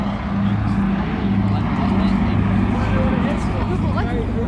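A 1934 Bristol Blenheim Mark I twin-engine aircraft with Bristol Mercury engines flies at the Southport Airshow, a continuous, steady propeller drone with a voice talking over it.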